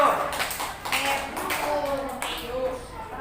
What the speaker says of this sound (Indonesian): tepuk tangan 100 untuk kelompok 2